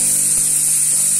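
Onion sautéing in a little oil in a frying pan, a loud, steady, hissing sizzle heard close up without any voices.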